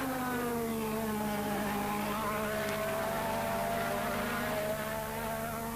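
Formula 1 racing cars from the 1986 season at full power, engines giving a sustained high whine with clear harmonic tones that slowly bend downward as the cars pass, steady and moderately distant with no talk.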